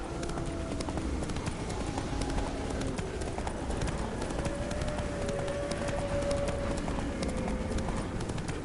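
Steady rhythmic hoofbeats of a galloping horse in Witcher 3 pound continuously, with faint wind and ambient game sound underneath.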